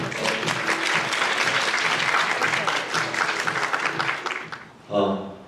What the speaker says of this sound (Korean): 황영석 대표이사님을 큰 박수로 환영해 주시기 바랍니다